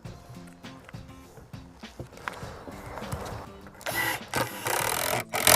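Construction screws are driven into scrap boards for a wooden raised garden bed. After quiet handling knocks, short close bursts of driver whirring and grinding arrive near the end, with no voices.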